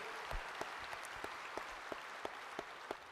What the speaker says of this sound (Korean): 다시 한번 우리 하나님 앞에 영광의 박수합니다